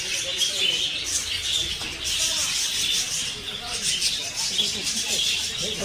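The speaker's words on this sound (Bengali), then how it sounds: "ঠাকুরবাড়ির পাখি" Many small birds chirp and tweet continuously in a temple aviary that also holds cockatoos, a dense, fairly close chorus with faint background voices.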